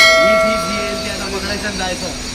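A train rolls in with a fading horn-like tone at the start, then a steady mechanical rumble and clatter, with faint voices around.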